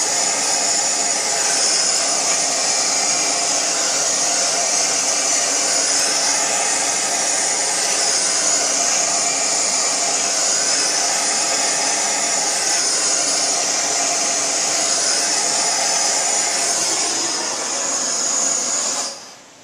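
A heat gun warms a part on a Jeep rear end with a loud, steady blowing hiss and whoosh. It runs continuously for nearly twenty seconds, close to the microphone, then cuts off abruptly at the end.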